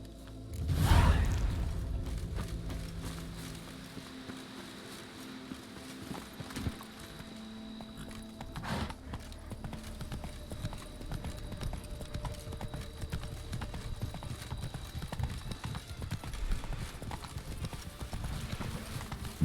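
Roach, a horse in the video game Witcher 3, gallops in a steady, rapid clip-clop of hooves that sits close and continues throughout. A soft whoosh comes near the start.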